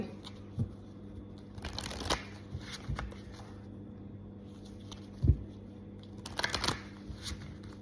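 Tarot cards handled and shuffled during a love reading, giving soft intermittent papery flicks and riffles with a couple of sharper taps, close and fairly quiet, with no talking.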